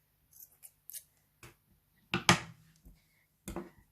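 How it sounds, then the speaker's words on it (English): Scissors snip through yarn during a crochet coaster project, giving a few quiet, separate clicks and snips, with one louder, sharper cut near the middle, set against a silent background. "now I'm just going to cut my yarn"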